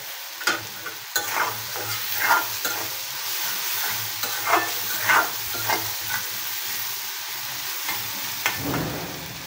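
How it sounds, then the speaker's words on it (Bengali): Chopped onions fry lightly in a pan, a steady soft sizzle punctuated by periodic scrapes and stirs of a spatula, moderately close and with no talking. "পেঁয়াজ কুচিগুলো একটু হালকা করে ভেজে নিতে হবে।"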